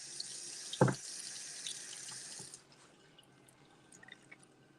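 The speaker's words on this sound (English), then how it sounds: "that's why you're hearing water running" Tap water runs steadily into a sink while cauldrons are emptied and rinsed out, a hissing flow broken by a brief clunk before it shuts off, leaving faint drips in a quiet room.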